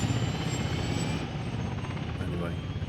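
A Mi-8 helicopter in the game Workers & Resources: Soviet Republic, a loud continuous rotor and engine drone with a steady pulsing beat, holding level for the whole stretch, while people talk over it.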